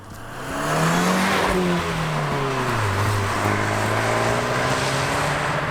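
A 2019 Fiat 124 Abarth's engine and exhaust hum steadily while driving, the pitch rising and falling gently as revs change, sustained and fairly close with no talking.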